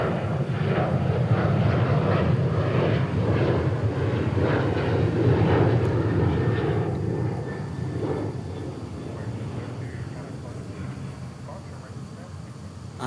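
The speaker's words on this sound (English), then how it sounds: "A380 holding short, getting ready to line up." A large Airbus A380 jet at DFW airport gives off a heavy, rumbling engine roar with pulsing bursts, loud at first and gradually easing away toward the end.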